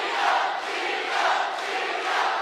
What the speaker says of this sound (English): Crowd coming to life, chanting Gina Iniong's name